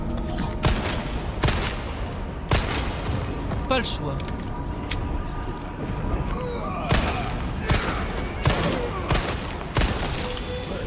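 Rapid bursts of gunfire in the Resident Evil 4 Remake video game, sharp repeated shots spread across the clip, loud and close, with someone talking over the action.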